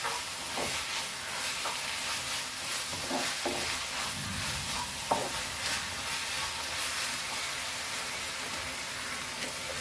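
Beef fried rice with tomato sauce and other sauces is stirred over high flame, a constant loud hissing sizzle with scattered scraping strokes of the spatula, no voices.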